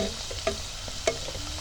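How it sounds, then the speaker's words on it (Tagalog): Sweet potato fries sizzle steadily in a pan while a utensil scrapes and stirs them, with a couple of sharper clinks against the pan. "mas maganda pala pag hinalo-halo mo siya na ganyan"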